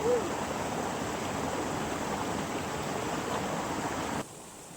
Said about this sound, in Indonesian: Bunyi gemericik air dan derasnya debit air menggugah selera saya untuk mencoba kesegaran secara langsung kali kampung Jawa.